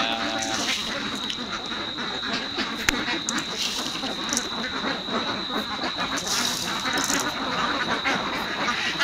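Ducks at a duck farm quack in a dense, continuous chorus that stays loud and close throughout, with no pauses in the noise.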